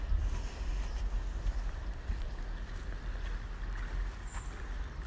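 River water flowing with a noticeable current in Congleton Park, a steady broadband rush with low wind rumble on the microphone, continuous and fairly close, with no voices.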